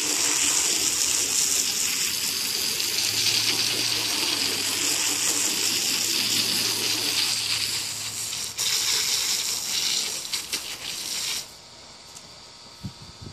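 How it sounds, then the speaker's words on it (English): Water gushes steadily from a hose or tap as a quail poo tray board is rinsed outdoors, a loud continuous spray that stops near the end, leaving quiet background. "Go to an area that could use a little bit more fertility and rinse your board off"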